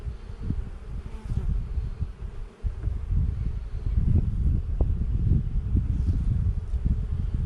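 Honey bees buzz around a hive in a steady, close, low drone, with individual field bees flying past the microphone and faint wind noise underneath; no one speaks.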